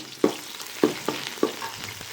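Small onions being added to a hot pan for chicken biryani, with a few distinct sizzling bursts as they hit the oil and are stirred, over a soft, steady frying hiss.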